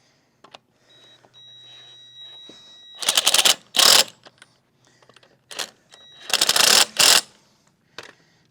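An impact gun tightens wheel nuts on an Audi TT in two loud, rattling bursts, each a few hammering pulses, separated by quieter clicks and handling noises in a garage.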